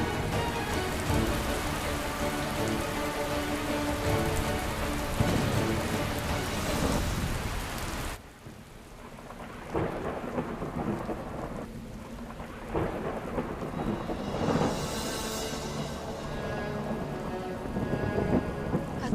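Heavy rain pours down through a thunderstorm, with loud rumbling thunder over a dense wash of rain that thins briefly partway through before the downpour and rolling thunder pick up again.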